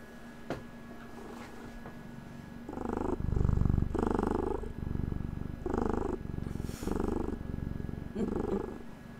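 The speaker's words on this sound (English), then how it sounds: "Everyone gets their purr break." A cat purrs close up in a steady, rhythmic series of rumbling pulses, loud and continuous through most of the stretch after a quieter start.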